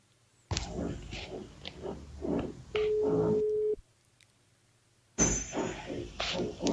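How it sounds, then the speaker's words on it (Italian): Telephone line during a call-in to a football broadcast of Juve Stabia vs Foggia, with a long steady electronic tone holding for about a second amid bursts of line noise and voices, then a stretch of silence before the line returns. "Squilla il telefono."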